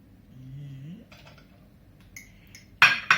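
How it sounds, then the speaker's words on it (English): A fork whisks egg and sour cream in a bowl for raspberry and white chocolate muffins, ending in a few sharp, loud clinks against the bowl after a brief voice and quiet rustling. "beating the egg through with the sour cream"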